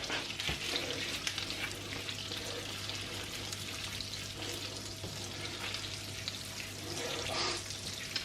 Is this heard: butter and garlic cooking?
yes